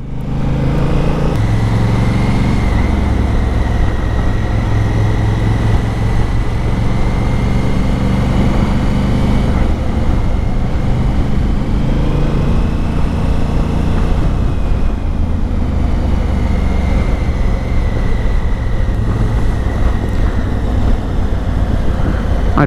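A 2018 Kawasaki Versys 1000 or Honda Africa Twin CRF 1000 engine drones steadily and loudly while riding, a continuous low rumble with wind noise and slight shifts in pitch as speed changes.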